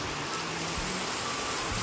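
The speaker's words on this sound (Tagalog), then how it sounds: "Lakas ng ulan." Heavy rain pours down steadily and loudly, a dense continuous hiss filling the space with no pauses, heard close as if beating on a nearby roof or ground.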